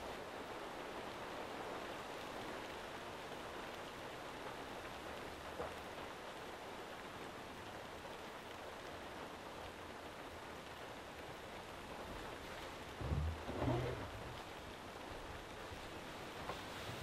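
Steady rain falls around a remote off-grid cabin campsite at night, a continuous even hiss with a few brief louder knocks or rustles near the end, no voices.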